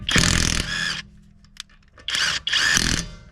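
Two loud, close bursts of a pneumatic impact wrench rattling wheel bolts loose through a JTC 3304 impact socket, separated by a short quiet gap with faint clicks.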